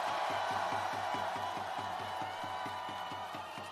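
Crowd at an outdoor party rally cheers and claps in a sustained roar, with a steady low rhythmic pulse beating underneath, loud and continuous.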